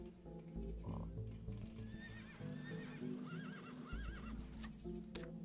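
Horse neighs and whinnies in the video game Sheltered, high wavering calls rising over a steady game backdrop, with scattered hoof clip-clops and clatter, fairly close and clear.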